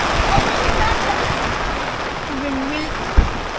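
Steady rain patters down at a small roadside waterfall during a monsoon stop, a continuous wet hiss filling the air with a brief low knock near the end and no clear speech.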